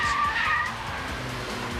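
Tyres of a Nissan Pulsar 2.0L ti hatch squeal steadily while cornering on a circuit, a high continuous screech over the car's engine drone, fairly close and loud, with no voices.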